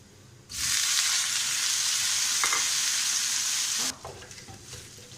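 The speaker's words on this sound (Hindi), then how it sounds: "अदरक लहसुन का पेस्ट फ्राई" Ginger garlic paste dropped into hot oil in a pan sizzles loudly and steadily for about three seconds, with a faint stir, then settles into quieter crackling.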